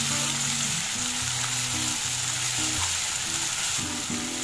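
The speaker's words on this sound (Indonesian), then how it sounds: "Kita tumis dulu bawang putih, bawang merahnya hingga harum." Ground garlic and shallots sauté in hot oil with a steady, close sizzle, broken by scraping stirs of a spatula against the pan, no voices heard.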